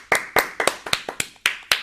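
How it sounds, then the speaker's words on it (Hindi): A handful of close, crisp hand claps, about seven in under two seconds, ring out in an uneven rhythm as applause for a young Kathak dancer on a children's programme. "इसके लिए एक बार जोरदार तालियां तो बनती हैं भाई"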